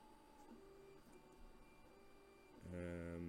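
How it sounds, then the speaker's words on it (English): A 3D printer running partway through a multi-day print, whirring with steady tonal motor hums that shift pitch in stepped patterns, then jump to a louder, higher whine near the end, close by with no talking. "That is a 3D printer running"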